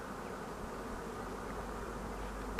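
Honeybees buzz densely at an apiary hive, a continuous close hum of many insects with a brief sharper buzz near the end and no speech.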